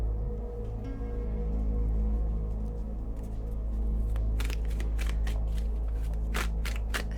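Oracle cards are shuffled by hand, starting quietly and turning into a string of crisp riffling bursts in the second half, heard alone over a steady low hum.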